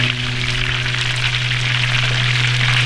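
Chicken fried steak sizzles steadily in a hot pan, a continuous loud frying hiss with no pauses and no voices.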